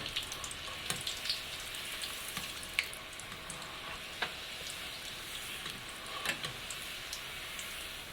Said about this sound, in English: When you're frying the kulkuls, make sure that you're frying them on a medium heat.